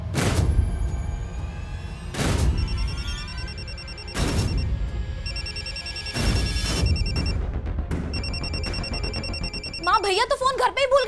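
A telephone rings in repeated bursts of electronic trilling, several rings spaced a second or two apart, mixed with dramatic booming music hits and voices.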